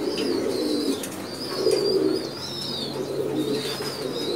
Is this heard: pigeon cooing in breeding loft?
yes